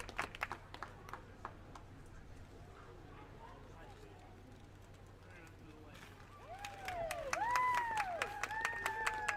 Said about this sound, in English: So if you would give our fine wool our fine wool exhibitors a big round of applause.